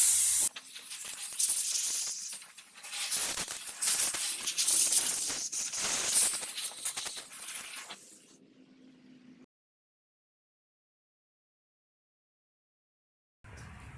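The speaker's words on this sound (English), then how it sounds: "I'm going to take some compressed air and blow this thing out a little bit." Compressed air hisses loudly in long bursts while blowing hair and debris out of the brush roller cavity of a Bissell vacuum, then cuts off into silence.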